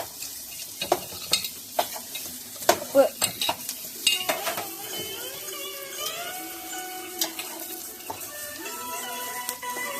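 Black pepper and cumin sizzling in a hot pan while making wheat rava upma, with light crackling, spoon scrapes and stirring clinks close by, growing busier toward the end.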